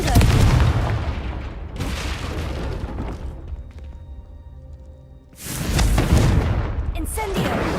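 Confringo blasting spell explosions in the video game Hogwarts Legacy: two loud, booming blasts with long rumbling tails, separated by a quieter stretch of ringing resonance, close and heavy.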